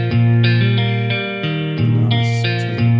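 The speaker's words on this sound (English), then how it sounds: "Or I can change to a roots rock. This is probably going to sound like a very American bluesy kind of thing." Electric guitar through a GarageBand iOS roots rock amp preset playing a series of distorted, bluesy chords with effects, each strike sustaining and ringing before the next, loud and alone.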